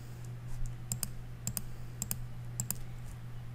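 Computer mouse clicking in close, crisp pairs, repeated steadily four times at roughly half-second intervals over a low constant hum.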